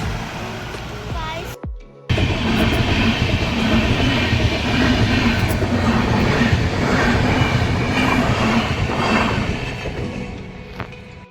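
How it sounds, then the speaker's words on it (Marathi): A night train rolls past close by in rainy Indapur, a loud, sustained rumble of wagons with clattering wheels after a brief sharp burst, holding steady for several seconds before easing off. "आता इथून रात्रीची ट्रेन गाडी."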